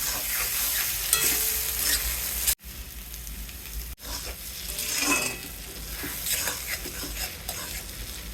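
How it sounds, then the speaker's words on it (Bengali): Eggplant frying in hot oil with turmeric and salt, giving a steady close sizzle with scraping stir strokes throughout and two brief sharp cutoffs. "হলুদ লবণ দিয়ে আলুর মতো করে ভেজে নিব বেগুন"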